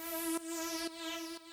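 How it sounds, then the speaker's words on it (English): Dub-style synth horn fill with a phaser sweep, three sustained tonal notes each restarting with a short break, steady and moderately loud with a whooshing, swirling top and no voices. "Here's one of the fills I have going throughout the track. Kind of like a dub horn sound."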